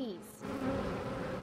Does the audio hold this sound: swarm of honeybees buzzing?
yes